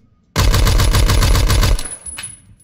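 Rapid automatic gunfire in the video game Phantom Forces, a loud close burst of about a dozen evenly spaced shots lasting over a second, then a short fading tail.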